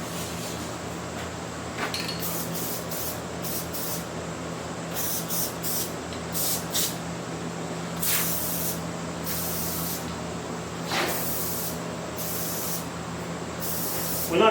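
Several short bursts of spray adhesive hiss from an aerosol can while insulating a metal building, some brief and some lasting a second or two, over a steady low hum with faint clinks in between.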